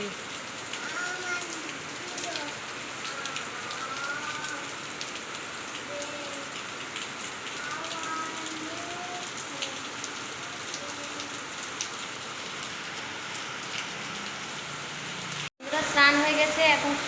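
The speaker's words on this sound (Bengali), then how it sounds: "দেখো কত বৃষ্টি পড়ছে" Heavy rain pours down steadily for a long stretch, a dense close hiss of drops drumming on surfaces with faint voices underneath, then a brief cut and louder noise at the end.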